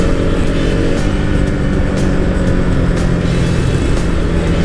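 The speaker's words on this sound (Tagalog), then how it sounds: "Tahimik yung exhaust kasi stuck." A 2020 Yamaha XSR 155 motorcycle runs with a quiet exhaust held shut by a stuck pipe. Its engine gives a loud, steady, continuous drone with no clear revving or pauses.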